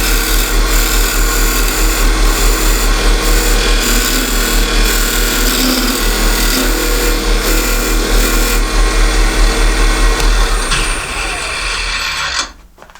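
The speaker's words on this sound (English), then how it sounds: "switch to a skew that's got a straight edge on it just to square this tenon off" A skew chisel squares off a wooden box tenon on a spinning lathe, giving a steady, loud whirring cut with scraping texture that runs continuously before the lathe spins down near the end.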